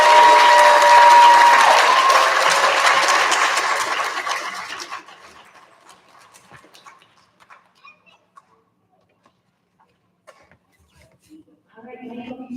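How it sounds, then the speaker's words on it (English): Loud applause from an audience honoring kindergartners at a school recognition ceremony, dense clapping filling the room for several seconds, then thinning and fading into near quiet, with a few scattered sounds returning at the end. "Nice big round of applause for our kindergartners."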